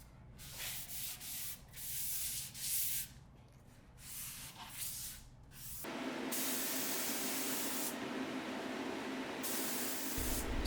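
A steady, broad hiss of a Fuji T75 spray gun with a 1.0 needle and nozzle spraying polyacrylic finish fires continuously in the second half, after a quieter stretch of softer hissing and rubbing.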